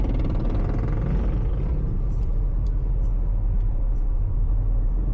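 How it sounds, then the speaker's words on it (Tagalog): Holiday-season road traffic heard from inside a Suzuki S-Presso: a steady, dense low rumble of surrounding cars and engines that continues without a break, with a few faint high clicks over it and no talking. "Grabe yung traffic ngayong Christmas season."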